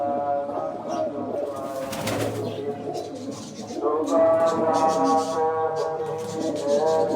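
Several pigeons coo close by in low, rolling, overlapping calls, with a brief rustle or flutter early on and a faint voice in the background.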